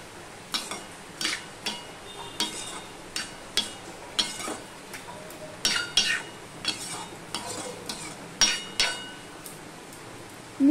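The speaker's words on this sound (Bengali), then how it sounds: "এবার সম্পূর্ণটা ভালো করে আমি মিশিয়ে নেব।" Ridge gourd curry seasoned with cumin and coriander powder is stirred in a pan, a spoon scraping and clinking against the metal in a steady series of sharp taps over about ten seconds, close and clear with no talking.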